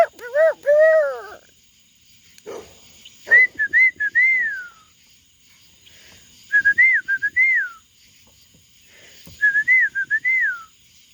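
Repeated melodic whistling by a man calling his pet birds, given in short rising-falling phrases in three bursts with pauses between, close and clear with faint background sound.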